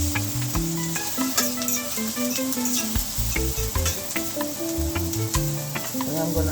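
Ackee and saltfish sizzle in a pan while being stirred, a constant hiss of frying punctuated by scraping and tapping of a utensil against the pan, close up with no talking.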